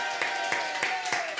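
A radio studio audience gives a short round of applause, a handful of distinct claps spaced evenly over a thin bed of crowd noise, fairly soft and without talk.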